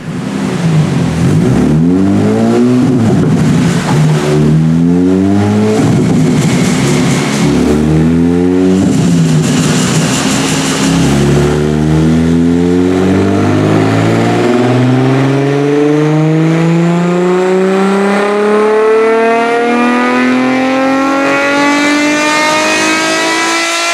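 A Toyota 2GR-FE V6 fitted with a new intake revs up repeatedly in several rising and falling bursts, then climbs in one long sustained pull to high rpm, loud and close with no talk.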